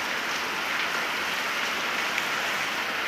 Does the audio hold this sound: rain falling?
yes